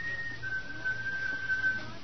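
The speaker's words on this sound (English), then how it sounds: "what is there in the cellar that would whistle?" A thin, steady whistle drifts up from a cellar in an old radio drama, a single sustained tone lasting nearly two seconds over a faint hum.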